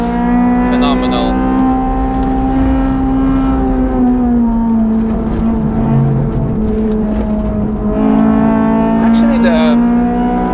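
Honda Civic FD2 Type R lapping the Nürburgring with an APP brake kit, its high-revving engine wailing loud and close, pitch rising and dipping through gear changes and braking, with someone talking over it.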